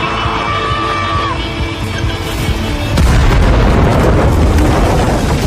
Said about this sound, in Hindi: वह विस्फोटक के फटने से ठीक पहले समय पर बाहर निकलने में सफल रहा।